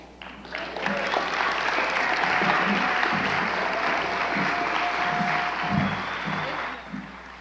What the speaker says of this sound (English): Please help me in welcoming him to the stage